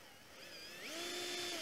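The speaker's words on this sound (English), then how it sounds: "drill a hole right at the back, right where the back panel meets the side" A power drill bores into a wooden beehive box at the back corner where the rear panel meets the side, its motor whine rising in pitch partway through and holding a steady, close, continuous tone, with no talking.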